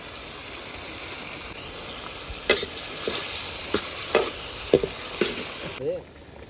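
Chicken frying in a pan with salt, kasuri methi, garam masala, chicken masala, chilli powder and coriander powder gives a constant sizzle broken by repeated sharp spatula scrapes and knocks.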